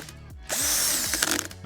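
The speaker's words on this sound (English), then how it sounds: "I think something's wrong with this power drill." A power drill that seems faulty whirs in short bursts, spinning up with a rising and falling pitch and a rough, rattling mechanical edge. It is close and loud, with no voices.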